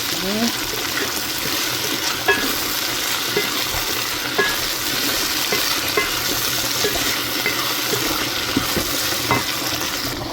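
Sliced okra fries in a pan with a steady, close sizzle, broken by soft scraping and clinking as it is stirred now and then.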